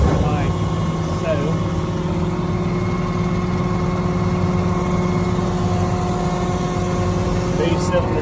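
Hydraulic cylinders lower the basket of a cotton module baler while its engine idles steadily underneath, a continuous low rumble with a faint hydraulic whine, and someone talks over it throughout.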